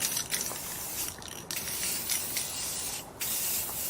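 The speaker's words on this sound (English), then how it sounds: "we're now going to spray paint it" Bursts of hissing black matte spray paint from an aerosol can coating a basket, several short blasts with brief pauses between them, close by and fairly loud.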